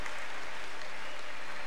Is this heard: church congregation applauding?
yes